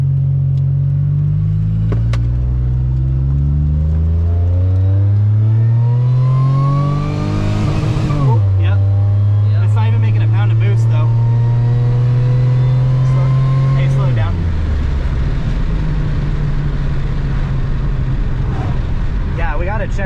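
Supercharged Pontiac Bonneville SSEi pulling hard through the gears from inside the cabin, engine note climbing steadily, dropping sharply at a shift around eight seconds, rising again, then easing off near fourteen seconds into a lower steady drone.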